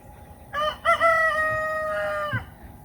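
A rooster on a mixed poultry farm with turkeys, ducks and geese gives a single clear, fairly close crow of about two seconds, rising and holding steady before breaking off.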